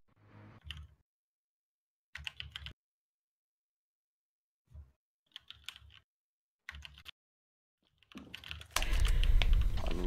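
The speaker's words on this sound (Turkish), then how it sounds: "senin biraz klavye sesin geliyor da" A computer keyboard is typed on in short bursts of rapid clicks separated by silences, close and clear, ending in a louder, denser noise.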